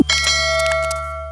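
A single bright bell ding as a notification sound effect, loud and close, ringing out with a long, steady, sustained tone that slowly fades.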